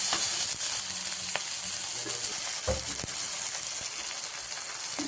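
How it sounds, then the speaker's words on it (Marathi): Tomato, garlic and onion frying in oil for a drumstick-leaf vegetable dish, a constant close sizzle with occasional scraping and stirring clicks from the pan. "टोमॅटो लसूण कांदा तेलामध्ये परतून झालाय"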